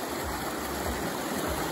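A waterfall and stream at an outdoor swimming spot give a steady, dense rush of flowing water, even and continuous throughout, with no voices.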